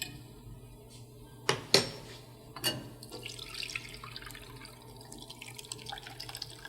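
Curdled soured milk poured from a metal pot, with a couple of sharp clanks of the pot against a container followed by a soft, splashy liquid pour that fades away. No one talks.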